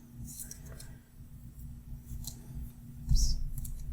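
Scissors cutting paper to trim an A5 Hobonichi Cousin planner page: soft, close snips and rustles, faint and sporadic, ending in a slightly louder cut.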